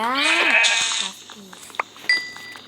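Sheep bleating in Minecraft, one loud wavering bleat up front followed by fainter game clicks and tones, with a person talking over part of it.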